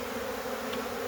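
Honey bees buzz around a freshly split hive, a dense, steady, close swarm drone with no other sounds.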